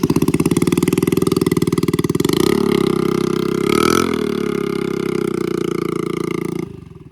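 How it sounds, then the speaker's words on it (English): A scooter engine fitted with a new loud exhaust runs with rapid, throbbing pulses, then settles into a rough, roaring drone before cutting off abruptly near the end; it is close and very loud. "then we're going to hear this new exhaust"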